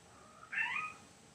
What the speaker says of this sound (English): So Lulu, my cat,